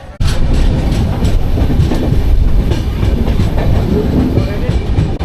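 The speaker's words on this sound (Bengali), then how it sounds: "আমাদের ট্রেন অতিক্রম করছে একটা ব্রিজের ওপর দিয়ে" A passenger train crosses a bridge just past Barakar station, with loud continuous wheel rumble and rhythmic clickety-clack heard from inside a carriage, starting abruptly.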